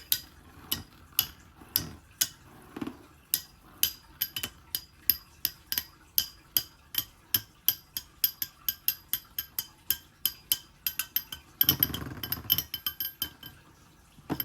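A Beyblade spinning top runs in a cheap BB-10 reproduction stadium, making regular sharp ticks as it scrapes the stadium's slope. The ticks come quicker and then break into a rougher burst of scraping near the end, with no voices.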